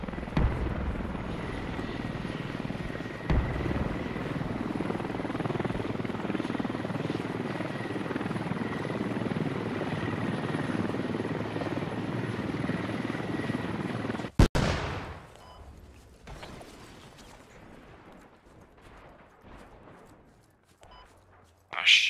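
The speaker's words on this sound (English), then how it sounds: "Well, alright, Sloba, we lost the chopper." Helicopter in the military shooter game Squad, a loud, steady rotor thrum that runs continuously before cutting off abruptly, followed by quieter scattered game sounds and a brief burst near the end.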